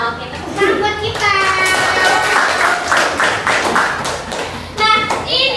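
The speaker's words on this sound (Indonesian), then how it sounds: "Oke, tepuk tangan buat kita." A classroom audience of students claps hands together in a burst of dense, rapid clapping lasting several seconds, with children's voices and speech mixed in around it.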